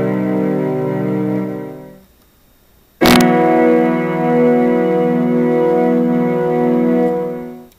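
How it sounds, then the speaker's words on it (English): A Casio Concertmate 950 keyboard in string ensemble mode plays a sustained chord that fades with reverb, then after a short silence and a click a second held string chord rings out, swelling and washing before trailing off. "this is when reverb comes in handy."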